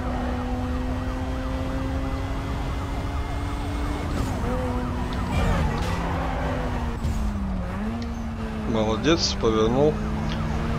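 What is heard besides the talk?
police siren in video game Need for Speed Most Wanted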